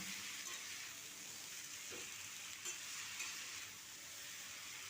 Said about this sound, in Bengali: এরপর আমি হলুদ আর জিরা গুঁড়ো দিয়ে দিয়েছি দিয়ে খুব ভালো করে আমি মিশিয়ে নিচ্ছি